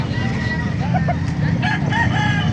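A rooster crows amid the busy din of a live chicken market in Calumpit, Bulacan, with clucking fowl and a dense bed of market noise all around.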